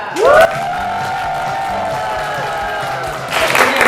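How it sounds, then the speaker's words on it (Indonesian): A studio audience at a campus quiz-show taping cheers and applauds, with a long, steady shouted whoop carried over loud, dense clapping that swells again at the end. "Boleh dong kita kasih tepuk tangan untuk Pija"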